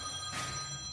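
A phone rings briefly in a house, a steady electronic tone with a faint bright swell, moderately quiet and alone.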